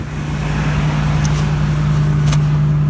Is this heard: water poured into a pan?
no